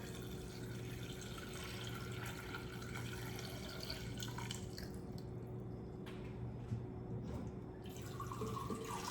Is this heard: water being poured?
yes